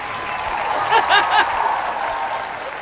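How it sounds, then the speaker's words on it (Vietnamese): Studio audience applause on a Vietnamese TV singing show, Ca sĩ giấu mặt 2015, with a brief swell of clapping mixed with a few chuckles and crowd murmur, moderately loud in the room. "Vỗ tay."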